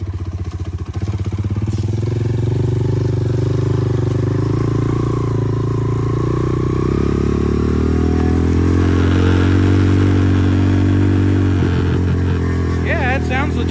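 A dirt bike rides over loose gravel, its engine droning and revving steadily close by while stones clatter and scrape under the tyres throughout.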